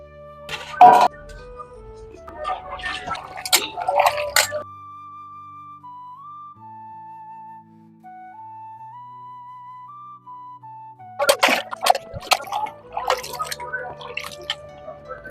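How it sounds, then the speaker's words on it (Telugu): A goat head being washed in water for curry: splashy, dripping bursts of handling near the start and again near the end, with a thin tonal melody playing through the quieter middle stretch. "ముందుగా అయితే మనం ఈ తలకాయ కూరని శుభ్రం చేసుకుందాం రండి"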